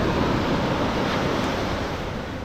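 Sea waves wash onto the beach at Alibag, a steady, close surf roar with wind noise that stays loud and even throughout, with no voices.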